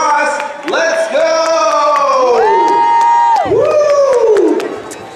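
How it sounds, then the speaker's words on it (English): A loud crowd cheers and whoops at a boat race, with children shouting and excited high voices rising and falling continuously, some clapping mixed in, close and energetic throughout. "make some noise, get loud in here, help him make it across"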